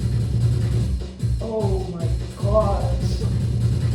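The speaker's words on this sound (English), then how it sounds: "So that drum machine sounds like this," A Roland MC-303 drum machine plays a steady pulsing beat with punchy low hits, while people talk and react over it.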